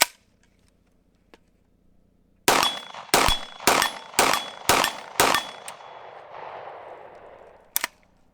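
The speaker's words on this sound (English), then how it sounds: "hopefully get 2 or 3 shots off before it jams again" A Foxtrot Mike FM45 firing six loud, sharp gunshots in a quick irregular series, each with a ringing tail. One more shot follows after a pause, matching the gun jamming partway through.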